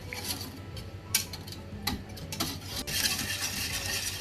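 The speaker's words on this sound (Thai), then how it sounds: "ต่อไปนะคะเราก็จะใช้คนให้เข้ากันโดยใช้ไฟอ่อนๆนะคะ" A spoon stirs a condensed milk mixture in a pot over low heat, making soft scraping and tapping sounds against the pot, with a faint sizzle underneath. The sounds are close and quiet.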